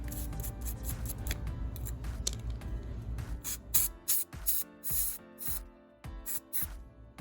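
A can of compressed air sprays into a hair clipper's blade drive in a run of short, sharp hissing bursts, some quick and some longer, close-up with quiet gaps between them.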